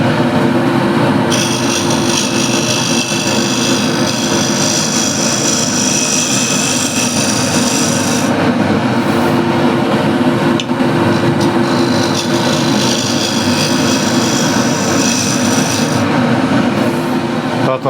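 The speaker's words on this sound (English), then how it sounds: "Now I'll use a refiner and just scrape the outside." A refiner scrapes the outside of a Katalox natural-edge bowl spinning on a woodturning lathe. The loud, continuous roar of the machine and cutting lasts throughout, with hissy scraping that swells and eases in long stretches.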